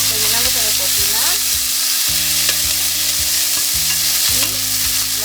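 Onion frying in a pan while cooking chickpeas with chicken, with steady sizzling throughout and stirring clatters and utensil scrapes recurring every second or so; no talking.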